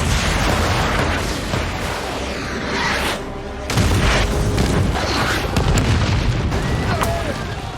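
Heavy booming blasts and rumbling explosions from BM-21 rocket launchers in a war film roll over a dense, noisy battle soundscape, loud and continuous with sharper bursts midway.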